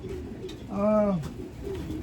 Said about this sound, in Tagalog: Pero marami namang ibon eh.